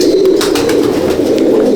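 Andhra and Madrasi pigeons at a loft in Halisahar coo in a dense, steady chorus, close and loud, with a few brighter chirps above it.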